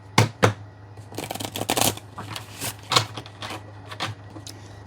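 A deck of cards being shuffled during a tarot-style pick-a-card reading: repeated riffling bursts and soft card slaps in uneven clusters, close and fairly quiet, with no talking.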